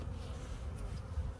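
Honey bees buzz around an opened beehive during a hive check, a steady, close, droning hum of many insects with no talking.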